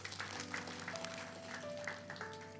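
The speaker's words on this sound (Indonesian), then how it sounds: "Beri tepuk tangan dulu buat Tuhan." A church congregation claps faintly and continuously during a worship service, soft scattered applause heard beneath sustained organ-like musical tones.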